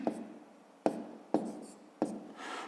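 A pen writes a math answer by hand on paper, four short scratchy strokes spaced at uneven intervals, close and fairly quiet, with no talk.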